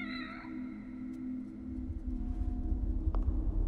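A cat meows in The Evil Within, a harmonic cry near the start over a steady low game ambience and droning background hum, with a louder rumbling swell building toward the end.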